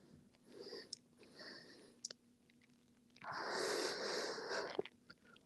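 During yoga practice, deep breaths sound out: a softer airy inhale early, then a long, louder breathy exhale through the middle, with a faint click near the end.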